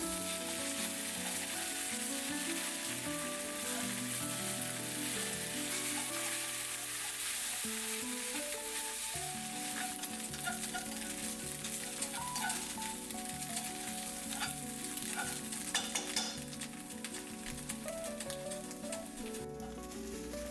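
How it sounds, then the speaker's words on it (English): Two eggs sizzle and crackle in a hot pan for bacon fried rice, a dense continuous frying hiss with scraping stirs throughout, close and steady with no voices. "throw in 2 eggs, break them down into small pieces, stir out till them turn golden on the edges"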